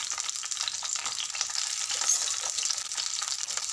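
Green chillies fry in a pan for a tomato chutney, giving a dense, even hiss of oil that holds steady and close throughout with no voices.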